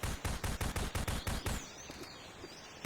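A fast burst of automatic gunfire in a video game, about a dozen evenly spaced shots, then a quieter stretch of whooshing game effects.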